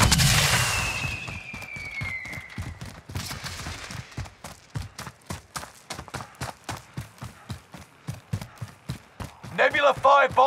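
Bomb-zone explosions go off in Call of Duty Warzone: a loud blast opens, then a long run of rhythmic thudding impacts follows. A voice comes in briefly near the end.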